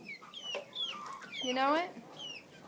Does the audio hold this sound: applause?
no